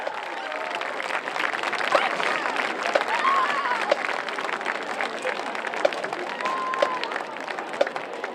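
Stadium crowd at a high school football game applauding a marching band and color guard, a broad wash of clapping and cheering with occasional whistles, a voice speaking over it throughout.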